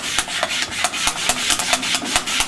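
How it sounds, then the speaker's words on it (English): Squeegee rubbed over Tesa flexo tape on a printing cylinder, a steady back-and-forth scraping rasp in an even rhythm of about four strokes per second, close and fairly loud with no talk. "just use the squeegee over here"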